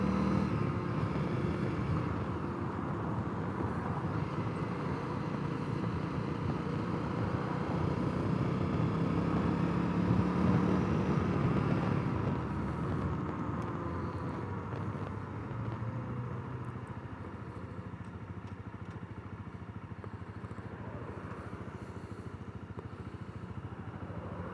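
A Honda CRF250L dual sport motorcycle engine drones steadily while riding on a commute home, a low continuous hum with wind noise, swelling slightly midway and then easing, with no talking.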